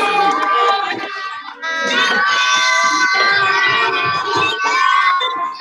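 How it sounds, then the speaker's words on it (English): A loud crowd of children cheering and shouting together, sustained and energetic throughout, with a brief dip before the noise swells again. "give Daniel and the Toucan Ranch a big round of applause"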